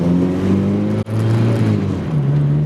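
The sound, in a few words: 2.5L swapped Mazda NC Miata engine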